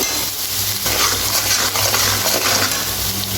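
Turmeric, salt and ground spices stirred in a hot pan, giving a dense, steady sizzle with soft scraping strokes, close and loud.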